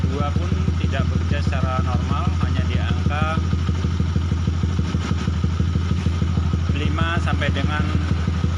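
A Honda Sonic motorcycle with a misfire at certain revs runs steadily close by, its engine giving a constant throbbing drone that lifts slightly as the throttle opens, while someone talks over it throughout.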